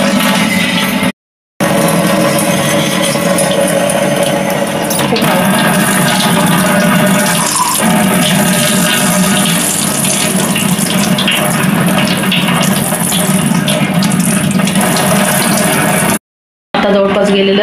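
Water runs loudly from a household tap in Chandrapur, Maharashtra, as the supply runs out, a steady close rushing stream interrupted by two brief cuts.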